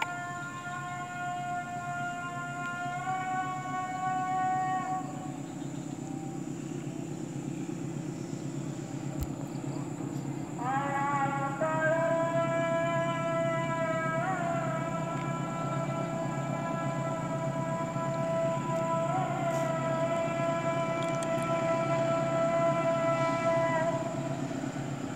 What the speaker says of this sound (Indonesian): ini dia kereta api Batubara masuk jalur 2